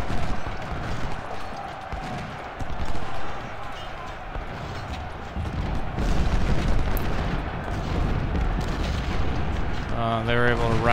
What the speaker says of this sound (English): We've engaged their cannons